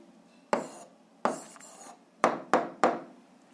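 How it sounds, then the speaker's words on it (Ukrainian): Someone writes an answer to a seventh-grade algebra exercise, producing five short, close scratchy strokes: two longer ones, then three quick ones in a row, with quiet pauses and no speech. "записуємо відповідь, пишемо відповідь"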